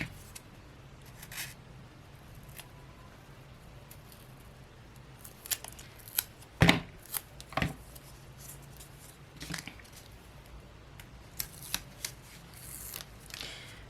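Scissors snip through a small strip of foam tape while making a handmade fall card, a few soft close cuts and light paper rustles over a quiet room.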